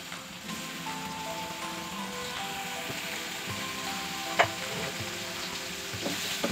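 Paneer and potato tikki fry over high flame in shallow oil in a kadai, giving a steady close sizzle with a sharp clink partway through and no talking.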